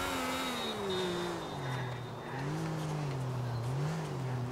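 Racing cars in GTA IV, one engine holding a steady droning note that rises and dips as it revs through gear changes, loud and continuous for several seconds with no talking.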